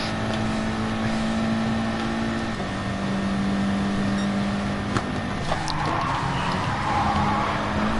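Race car engine in Gran Turismo Sport during a Gr.4 manufacturer cup race at Suzuka, held at a steady high drone under power, with a slight pitch drop midway and a few faint clicks near the end.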